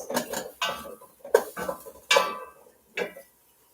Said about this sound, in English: I'm putting in a couple onions